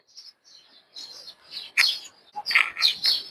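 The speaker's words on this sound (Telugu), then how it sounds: "బర్డ్స్ కూడా చక్కగా సౌండ్ చేస్తున్నాయి" Small birds chirp and tweet outdoors in a pleasant sunny spot in Dubai, short sharp calls in irregular bursts, fairly close and clear against quiet surroundings.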